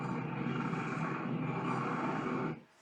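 A spacecraft engine roars in a science-fiction battle scene from the 1979 film Alien, a loud, dense, steady rumble that cuts off abruptly near the end.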